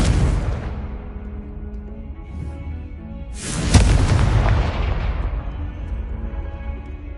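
A Confringo fire spell blast in the Hogwarts Legacy video game, a loud booming explosion with a rumbling tail, preceded by a softer burst.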